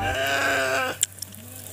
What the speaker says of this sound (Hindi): भेड़ बहुत ज़्यादा है